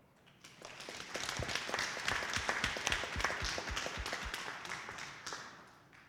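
Audience applause at a school board meeting honoring student award recipients, a steady round of many hands clapping that swells quickly, holds for several seconds and tapers off at the end.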